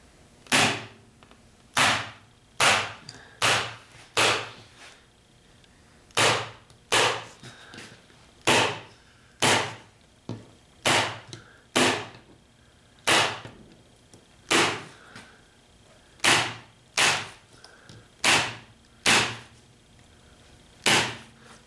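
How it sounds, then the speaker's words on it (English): An electric stapler tacks a beaver pelt onto a wooden fur board, firing about twenty loud, sharp snaps at an uneven, fairly quick pace, close up and without speech. "We're going to move on to the electric stapler here."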